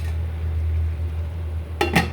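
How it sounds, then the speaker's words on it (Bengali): A lid is set onto a cooking pot of hilsa fish curry with stalks, making two quick metallic clinks near the end, over a steady low hum of kitchen background noise. "ঢাকনা দিয়ে দিলাম ভালো করে কষানোর জন্য"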